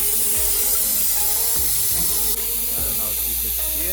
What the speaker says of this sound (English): now it's sucking air